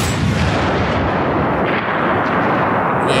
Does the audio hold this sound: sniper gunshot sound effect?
yes